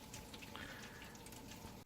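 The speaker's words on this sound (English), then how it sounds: "So we've got a bit of a drip here." Water running and dripping from a leaking pipe on a home-brewing setup during a German Pilsner brew day, a faint steady trickle with no voices.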